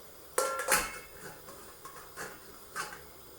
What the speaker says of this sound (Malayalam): അതിലേക്ക് ഞാനൊരു ഇതുപോലെ ഒരു ദ്വാരമുള്ളൊരു പാത്രം വയ്ക്കുകയാണ്.